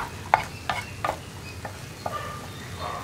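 Coconut oil sizzles in a pan while green peas and egg stir-fry for a Kerala thoran, with a few sharp scraping stirs standing out over a steady, close crackle.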